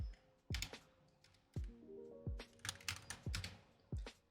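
A command typed on a computer keyboard: sharp, close individual keystrokes in an uneven rhythm with short pauses, faint and alone, with no talking.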